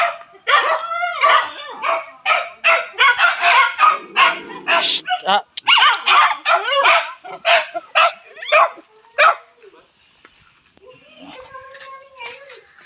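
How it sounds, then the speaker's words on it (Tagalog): Many dogs bark rapidly and loudly together in a dense, overlapping burst, with some yips, then the barking thins out and fades, while a person hushes briefly. "Ang daming aso."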